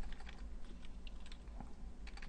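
Fingers type briefly on a computer keyboard, faint and close, with quick, uneven clicks running over a low, steady background hum.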